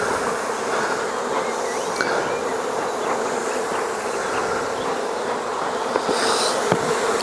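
Honey bees buzz steadily over an open hive brood box during a beekeeping inspection, a dense, continuous close-up drone with no speech.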